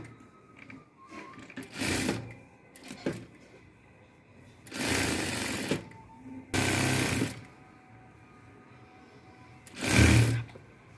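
A sewing machine stitching piping into a garment lining runs in several short bursts of rapid mechanical whirring, close by, with quiet handling noises in the pauses between runs.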